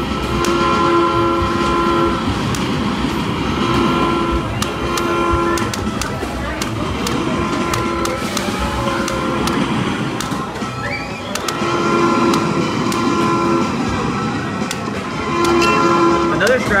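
An arcade video game at Pelican Pier plays a passing train, with a repeated horn blaring in pulses over continuous rumbling and clattering wheel effects, loud and close, while people talk over it.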